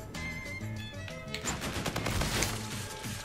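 Gunfire in Infinite Warfare's infected mode, a burst of rapid shots rising out of game music and growing denser toward the end, loud and close.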